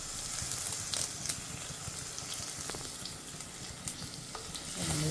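Green chillies and curry leaves sauté in oil in a pan, a steady soft sizzle with occasional stirring scrapes and clinks, close and moderately quiet.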